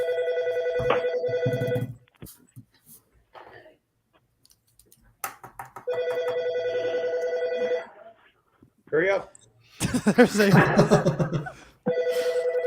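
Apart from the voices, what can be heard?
home landline telephone ringing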